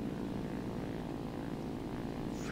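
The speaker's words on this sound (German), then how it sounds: "Dieses schöne Einschläfern, die Summen des Motors" The propeller engine of an I-15bis biplane fighter in War Thunder drones as a steady, loud, even hum, continuous and unbroken with no other sounds.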